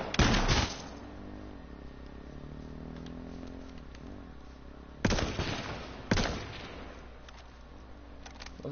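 Gunfire from a video game: a sharp shot burst at the start, then two more abrupt reports later, over a low droning background hum, moderately loud with no voices.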